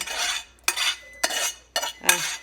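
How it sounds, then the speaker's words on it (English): Rice being stirred into cheesy chicken in a slow cooker, four bursts of thick scraping and clattering as a utensil drags against the pot, separated by short pauses, close and without talk. "So I'm just gonna mix in the rice"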